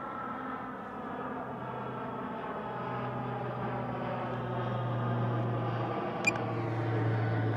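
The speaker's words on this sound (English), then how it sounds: "That's a low-flying aircraft." A low-flying military aircraft passes overhead, its steady droning engine rumble filling the scene and slowly swelling louder as it nears, with a faint click near the end.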